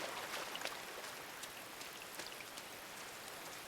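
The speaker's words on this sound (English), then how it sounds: "And of course it's raining" Steady rain falls in the side-scrolling game INSIDE, a soft even hiss of drops spattering on surfaces, quiet and continuous with no voices.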